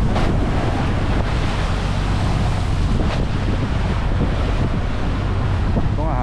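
Rough sea slaps and churns around a small service boat in the West Philippine Sea, with heavy wind buffeting the microphone throughout, loud and unbroken.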